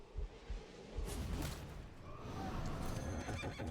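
A horse neigh sound effect plays as a beast card is put into play in the Hearthstone card game, a short whinny preceded by a couple of soft thumps, then a sustained swishing tail.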